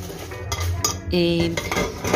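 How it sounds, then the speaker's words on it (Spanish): Dishes being washed in a home kitchen, with pots and cutlery clattering and clinking close by in quick, irregular knocks and scrapes, plus a brief ringing tone from a struck pan. "me voy a poner a lavar los trastes"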